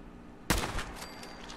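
A single sharp gunshot from a scoped, modded assault rifle in Fallout 4 cracks out loud and close, followed by a short ringing tail and no voices.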